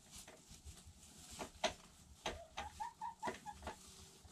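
Pet chicken Sasha giving soft, faint clucks, a short run of low murmuring notes with a few sharper sounds in between, heard close in a quiet room.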